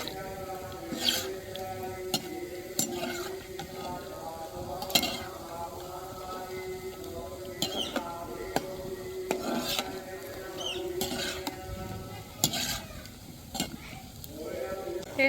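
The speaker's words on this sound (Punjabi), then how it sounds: "ਪੈਨ ਨੂੰ ਥੋੜਾ ਜਿਹਾ ਆਪਾਂ ਘੁਮਾ ਦੇਾਂਗੇ ਵੀ ਤੇਲ ਵਧੀਆ ਇਹਨਾਂ ਦੇ ਉੱਪਰ ਇਸ ਤਰੀਕੇ ਨਾਲ ਕੋਟਿੰਗ ਹੋ ਜੇ" Snacks frying in oil in a pan that gets swirled, a steady soft sizzle with scattered metallic clinks and scrapes from the pan, while a person talks over it.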